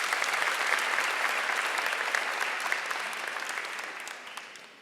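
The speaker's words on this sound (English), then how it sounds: "give her a round of applause" At a high school senior awards ceremony, an audience gives a sustained round of applause, a dense crowd of clapping that stays full and then gradually tapers off.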